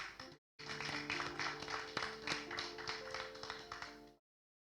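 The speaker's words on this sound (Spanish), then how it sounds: "Un aplauso al Señor." A church congregation applauds during a sermon, a few seconds of fairly quiet clapping with irregular distinct claps, beginning after a brief pause and cutting off abruptly.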